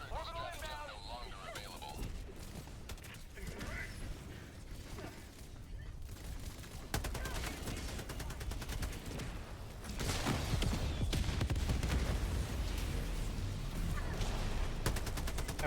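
Gunfire rattles through a video game battle with tanks and anti-tank weapons, with bursts and volleys growing denser and louder toward the end while someone talks excitedly over it.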